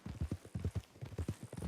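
Horse hooves clip-clop in Red Dead Redemption 2, a steady walking rhythm of close, soft thuds repeating evenly throughout with no talk over them.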